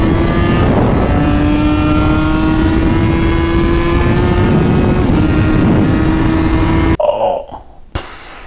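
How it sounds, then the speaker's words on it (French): A Yamaha 500 RDLC four-cylinder V two-stroke engine of 87 horsepower revving, a loud, steady buzzing drone that climbs in pitch and holds near, then cuts off abruptly into short bursts and quiet. "mon 2 temps préféré, la Yamaha 500 RDLC. 4 cylindres en V, 2 temps de 87 chevaux."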